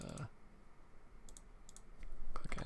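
Computer mouse clicks while setting up a Windows 98 installation in VirtualBox, a few sharp, close clicks spaced across the stretch over a quiet room hum, with faint voice sounds near the end.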